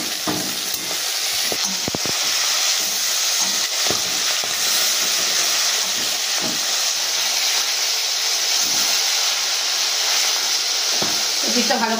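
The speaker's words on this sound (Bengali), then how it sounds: "তো মাছটা এবার আমি উল্টে ভালো করে ওই পিঠটা ভেজে নেব" Tangra fish frying in hot oil after being flipped, a steady bright sizzle running throughout with scattered soft clicks and spatters, close and continuous without pause.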